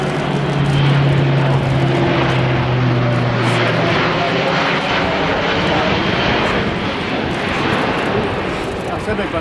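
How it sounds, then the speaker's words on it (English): Turboprop engines of an Airbus A400M drone loudly in flight, a steady propeller hum with a shifting pitch early on, under a speaking voice. "The engine will throttle back and the flaps will be lowered."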